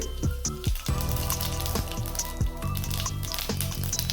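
Cumin seeds sizzle in hot oil over medium heat for a masoor dal tempering, a lighter, patchier frying hiss with small pattering crackles over background music.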